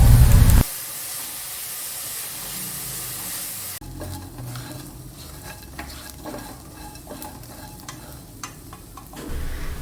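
Dried prawns are dry-roasting with salt in a pan. Scraping strokes of stirring run steadily over a soft hiss, with a louder burst at the start and no voices.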